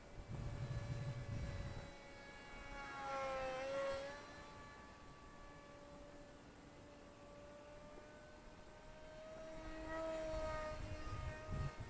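An Eachine SonicModell Micro Skyhunter RC plane with a 787mm wingspan flies overhead. Its electric motor and propeller whine steadily, with the pitch rising and falling as it passes and the throttle changes, moderately distant and without talk.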